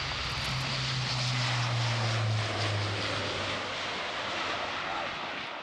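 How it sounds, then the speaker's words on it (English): An Airbus A400 military transport rolls for takeoff with a Czech Air Force display nearby, its turboprop engines giving a loud, steady roar with a low droning hum that slowly fades as the aircraft moves away. "Rolling now, the Airbus A400"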